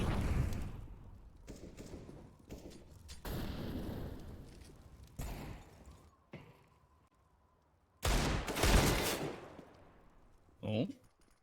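Sporadic gunfire in a Counter-Strike esports match between Sprout and Heretics, a few scattered shots and bursts, the loudest near the end, under ongoing commentary from casters.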